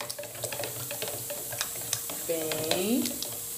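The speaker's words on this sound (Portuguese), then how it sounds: "Mexa bem mexidinho." Condensed milk stirred in a pan, with close scraping strokes and a soft bubbling sizzle across a few seconds.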